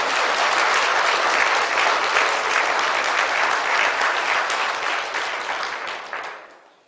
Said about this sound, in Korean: 이때는 영광의 박수를 한번 들려도 될 것 같아요.